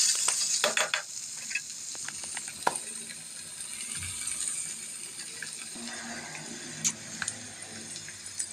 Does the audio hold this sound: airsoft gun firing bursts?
no